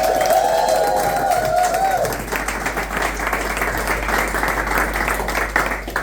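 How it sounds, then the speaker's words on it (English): Applause and cheering from a crowd at a London Marathon Christmas party, loud and sustained, rising after a few moments of overlapping talk at the start. "can I have a massive round of applause for Hamid as well"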